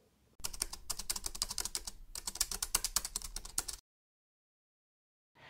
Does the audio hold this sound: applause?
no